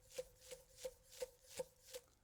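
Knife push-chopping on a cutting board, six evenly spaced crisp taps over about two seconds, close and fairly quiet, no voices.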